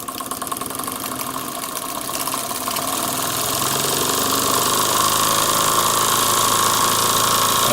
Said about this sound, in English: Nice smooth running engine.